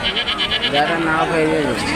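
Goats bleat repeatedly at close range amid busy, crowded background chatter and bustle at a weekly sheep and goat market.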